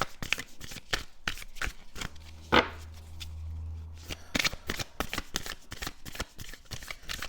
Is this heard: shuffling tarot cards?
yes